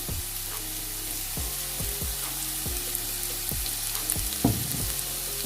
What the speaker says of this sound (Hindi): इसको मैंने 3 से 4 मिनट अच्छे से फ्राई कर लिया है